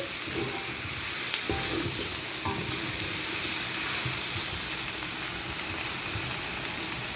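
Mutton head and chicken fry steadily in a pan, a continuous dense sizzle with occasional light stirring clicks, close and loud throughout.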